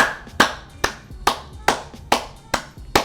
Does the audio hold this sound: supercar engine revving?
no